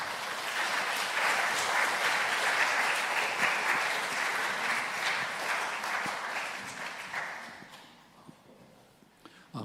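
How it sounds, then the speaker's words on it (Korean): A church revival assembly audience applauds warmly to welcome a guest pastor to the stage, steady dense clapping that swells then fades out near the end, leaving a few scattered claps. "강사님 나오실 때 큰 박수로 환영해 주시면 감사하겠습니다"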